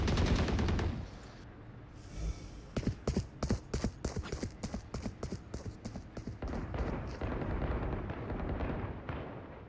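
Rapid bursts of gunfire in Valorant, with sharp repeated shots in quick clusters, some near and loud, running through most of the stretch alongside other game sounds.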